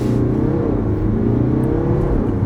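A BMW 523d four-cylinder diesel engine revving hard in sport mode, a loud, steady low rumble heard from inside the car with a rising drone and no voices.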